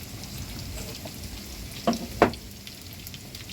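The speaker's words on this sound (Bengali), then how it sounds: "দেখো বন্ধুরা কিভাবে ভাজছে।" Pakora batter shallow-frying in hot oil in a home kitchen pan, a steady low sizzle with two brief sharper pops midway, close and without talk.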